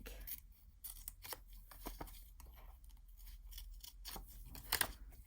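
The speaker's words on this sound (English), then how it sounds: "So let's turn the scissors the other way." Small scissors snip through a nail decal sheet in a series of crisp, close cuts spaced irregularly, quiet and isolated with no talking.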